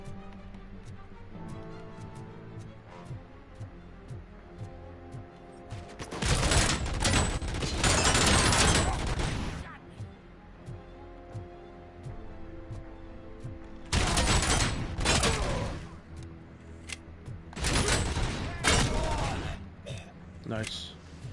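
Shotgun blasts in a PS5 video game come in dense loud bursts of rapid shots, separated by quieter stretches of game ambience and a voice talking.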